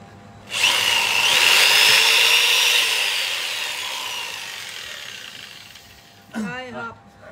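A Makita 310W jigsaw cuts with a loud, steady buzzing whine that runs for about six seconds before stopping, followed by a brief bit of speech.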